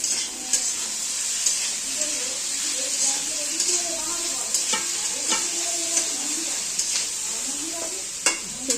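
Potatoes fry in a pan with a steady close sizzle, punctuated by scraping clicks and taps of a utensil stirring them, while a voice talks quietly underneath.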